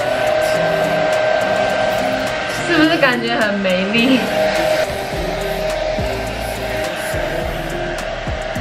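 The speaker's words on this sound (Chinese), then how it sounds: "它这个吹风机的风超级无敌小，" Weak hotel hair dryer giving a steady, thin whirring hum throughout, with someone talking over it partway.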